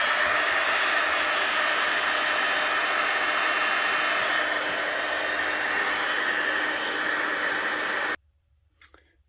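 A hair dryer blows steadily and loudly on junk journal ephemera, a constant whooshing roar that holds for about eight seconds before switching off abruptly, leaving faint handling noises.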